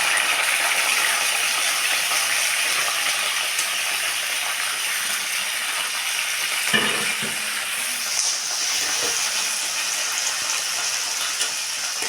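Green chillies frying in a pan as they are stirred, a loud continuous sizzle and hiss throughout, with a brief clatter near the middle.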